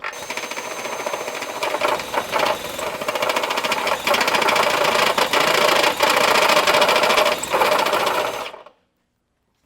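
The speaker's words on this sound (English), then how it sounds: "I'm just going to use my step bit and just enlarge this hole a little bit." A power drill with a step bit enlarges a hole in the rear of a 2025 Subaru Crosstrek during a trailer hitch install, with a loud, continuous grinding whir and rough bursts that stop abruptly near the end.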